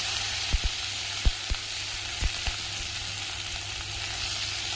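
Diced potatoes sizzle steadily in hot oil in a pan for chira pulao, with a few sharp clicks of stirring against the pan over the constant close frying hiss.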